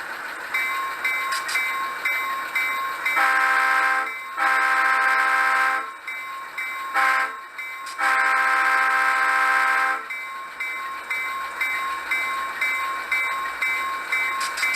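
A Leslie S3L air horn played through a Soundtraxx decoder in a Rapido U25B model locomotive sounds in several sustained chordal blasts of varying length, loud and close, over a continuous mechanical hum.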